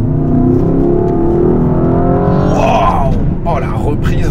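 Mercedes-AMG S63 E-Performance accelerating hard in sport mode, a loud rising engine roar climbing through the revs, with people talking excitedly over it near the end.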